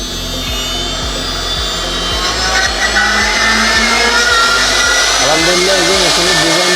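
A CNC router cutting a wood workpiece, a continuous loud mechanical whine and grinding with regular rhythmic pulses from the moving head, and a voice speaking briefly near the end.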